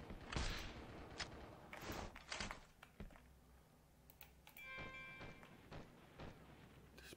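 Gunfire in the Android shooter Hopeless Land, with a helicopter flying overhead: scattered bursts and thuds crackle at varying distances, some near and sharp, others faint, over a steady low engine-like rumble.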